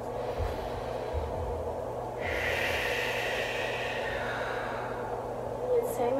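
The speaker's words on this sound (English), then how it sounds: "Breathing again, 3 breaths here." Deep breaths come during a hip hop dance stretching lesson, with a long airy exhale rising in the middle of the clip over a faint background hum.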